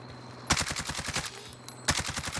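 Automatic gunfire in Call of Duty Warzone: two loud bursts of rapid, evenly spaced shots, the first running about a second and the second starting near the end, close and sharp with no talking.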